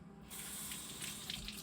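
Water poured into a container while measured by weight for a sourdough starter, a faint steady trickle with no voices.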